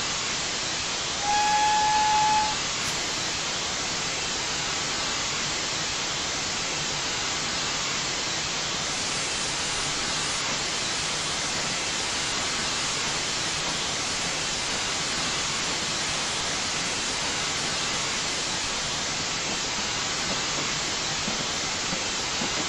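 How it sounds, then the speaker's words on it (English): Steam hiss from a GWR 14xx tank engine's safety valve lifting in a simulated Falmouth branch setting, a loud steady roar of blowing-off steam running continuously for over twenty seconds with a brief whistle-like tone near the start. "That noise is the safety is going off."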